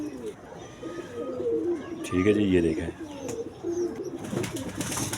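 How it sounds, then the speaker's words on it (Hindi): A black-faced roof pigeon coos softly in short repeated phrases close by, under someone talking over it. "जेनियन काले मुंह वाला छत वाला कबूतर है"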